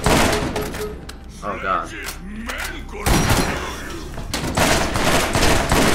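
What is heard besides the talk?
shotgun firing in the video game Borderlands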